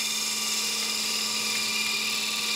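A point tool cuts wood on a lathe while a rough-turned hollow form spins, producing a steady, close, high-pitched whine that holds unbroken throughout.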